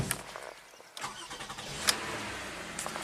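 A Mitsubishi Galant engine starts after a new fuse is fitted, giving a short crank that catches and then settles into a close, steady idle.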